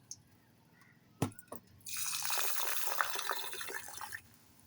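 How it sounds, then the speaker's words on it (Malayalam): Water poured into a steel pot holding lentils, a couple of knocks followed by a steady splashing pour lasting a few seconds before stopping. "വെള്ളം ഇത്രയും നിറച്ചാൽ മതി."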